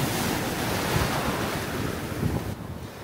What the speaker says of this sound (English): Quite wavy today, kind of fun.